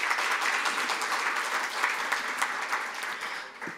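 Applause from the audience at a Korean social welfare group's launch ceremony as a lawmaker is introduced, a steady burst of clapping that tapers off at the end.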